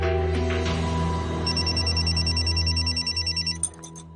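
A telephone rings in a tense drama scene, a bright repeating electronic ring pulsing steadily over a low musical underscore before cutting off.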